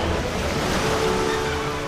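Ocean surf rolls in at a black-sand Bali beach, a steady wash of breaking waves with low rumble and airy hiss, close and continuous with faint wind and no speech.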